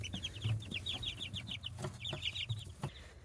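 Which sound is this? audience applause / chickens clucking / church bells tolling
chickens clucking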